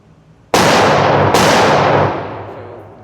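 Two sharp, loud pistol shots from a Glock 31 Gen4 at an outdoor range, the second following less than a second after the first, each cracking out and ringing off in a long decaying echo.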